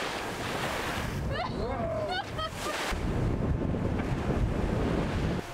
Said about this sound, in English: choppy waves descended upon the bobbing motor sailing yacht as we reached open water